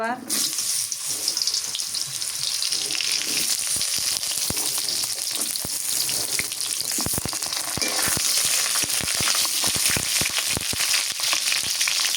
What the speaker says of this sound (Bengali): জিরাটা ভাজা হয় মানে সুন্দর ভাজা হয়